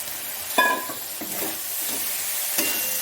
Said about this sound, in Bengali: সেদ্ধ করে রাখা ব্রকলিগুলো দিয়ে দিচ্ছি